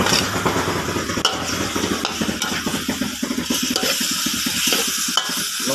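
Holy basil and large shellfish sizzle loudly in a hot wok while a utensil scrapes and stirs in quick, repeated strokes, with no talking.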